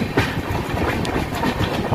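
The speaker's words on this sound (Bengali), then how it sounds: "এই আমাদের ট্রেন ডালখোলা স্টেশন বেরিয়ে গেল।" An AC passenger train, the Howrah Shatabdi Express, pulls out of Dalkhola station with a loud, continuous rumble and a rhythmic clickety-clack of wheels on rail joints.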